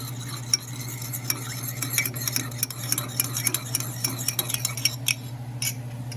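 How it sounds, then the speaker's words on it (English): A spoon stirs a sauce for chicken francese in a pan, producing a run of light scraping clicks and taps over a faint sizzle and a steady low hum, with no talking. "So I'm just going to stir that up."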